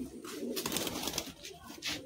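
Pigeons coo in soft, repeated low murmurs close by, with bursts of rustling and a few brief brighter flutters over about two seconds and no one speaking.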